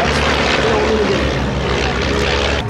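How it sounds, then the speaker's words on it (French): A Stampe biplane powered by a 140-horsepower inline four-cylinder Renault engine flies gentle aerobatics in a formation of four Stampes at Biscarrosse, giving a loud, steady propeller drone close by throughout. "équipé d'un petit moteur Renault de 4 cylindres en ligne. Ça fait 140 chevaux"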